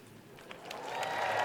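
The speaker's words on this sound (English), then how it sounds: "Clap! Clap, damn you!" Applause from a keynote audience at Google I/O 2023 swells from a faint patter into a fuller, steady clapping over a second and a half, heard from a distance.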